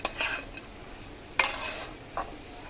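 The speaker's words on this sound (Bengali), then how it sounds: "কাজুটা মিশিয়ে দেওয়ার পর আমরা এটা ভালো করে ভেজে নিচ্ছি।" Cashews stirred and fried in a pan while cooking butter chicken, giving a few short scraping clatters of a utensil against the pan over a quiet background sizzle, with no talking.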